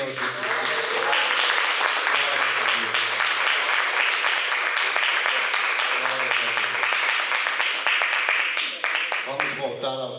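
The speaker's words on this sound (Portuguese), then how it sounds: "todos recebam com aplauso a nosso Senhor Jesus Cristo" Church congregation at a family worship service applauding for about ten seconds, a dense, even wash of clapping with a voice speaking faintly over it near the start and end.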